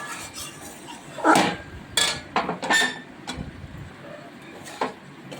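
Prawn and plantain curry is stirred in a pan with a utensil, giving a few sharp scraping clinks against the metal spread irregularly over a quiet background.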